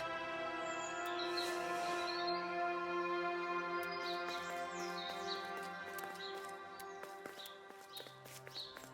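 Birds in The Last Campfire video game give small, high chirps scattered over a sustained, tonal musical drone. The tweets are faint and come in short clusters.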